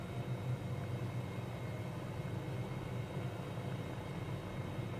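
Gee Bee racing aircraft taxiing toward the runway at Ford Island in a flight simulator game, a steady droning engine hum with no breaks.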